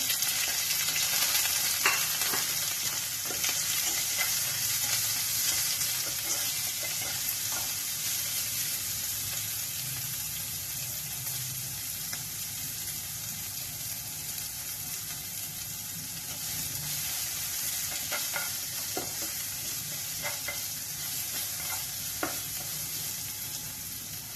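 Onions and curry leaves fry in hot oil with a continuous, fairly loud sizzle, accompanied by occasional soft scraping clicks of a stirring utensil.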